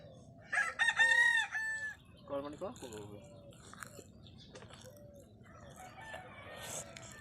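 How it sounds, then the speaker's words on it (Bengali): In a village, a rooster crows loudly and nearby, a long drawn-out call, followed by clucking hens and birds, with a voice speaking underneath. "মুরগার ডাক, পাখির ডাক, অনেক কিছু মিলে"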